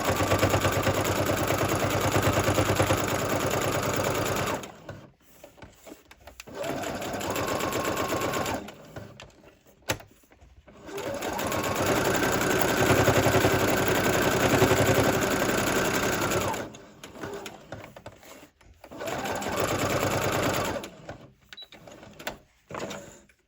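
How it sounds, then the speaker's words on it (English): A sewing machine running a straight stitch, sewing in long steady bursts of rapid mechanical whirring separated by short pauses, loud and close. "But let's change to a straight stitch. And we'll just go the whole way around."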